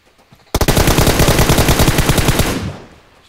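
Rapid automatic gunfire in the PUBG Mobile video game, fired while the player is on the move: one loud, sustained burst of closely spaced shots that lasts about two seconds and then rings out and fades.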